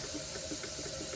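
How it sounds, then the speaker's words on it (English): Steam vents in a steady, unbroken hiss from a pressure canner processing chicken broth, a close and constant rush of noise with no pauses. "I have a solid stream of steam coming out of the pressure right here"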